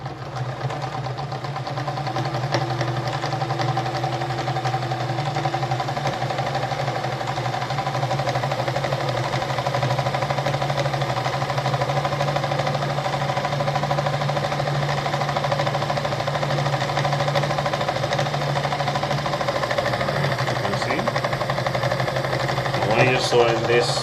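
An Adler 489A sewing machine runs continuously, a steady droning hum with a fixed mechanical tone, close and even throughout with a few faint clicks near the end.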